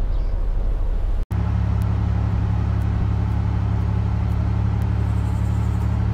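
Car engine in DayZ straining uphill off-road through woods, a loud, steady low rumble with a brief cutout early on, then a constant droning hum with faint clicks and no talking.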